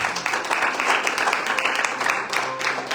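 Congregation claps for the Lord during an evangelical sermon, a continuous, full wash of applause from many people filling the room, steady and fairly loud with little variation.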